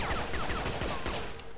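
Rapid gunfire rattles in a dense, continuous burst of overlapping shots from a horror monster-hunter mobile game, loud and close with no talking.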